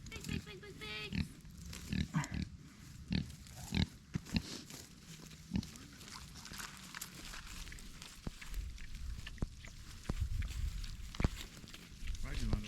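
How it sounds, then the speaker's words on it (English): Large farm pigs grunt and snuffle close by among rustling and footsteps, with a person talking intermittently over the animals. "Big pigs."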